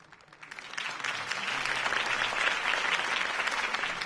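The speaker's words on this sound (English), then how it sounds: "could have heard that applause" Crowd applause in the video game Batman: The Telltale Series swells up after a quiet start and then holds steady, a dense wash of clapping from many hands.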